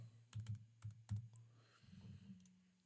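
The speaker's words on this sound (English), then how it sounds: "I'm typing with one hand here, so." Quiet clicks of computer keyboard keys being pressed one-handed in short, uneven bursts, a few taps at a time, close by over a low steady hum.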